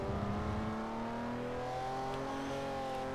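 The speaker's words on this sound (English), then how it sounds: "You can just hear that little S engine going." Nissan Fairlady Z 432 engine in the Forza Motorsport racing game, a steady droning hum with a slowly rising pitch, held close and continuous throughout without any talk.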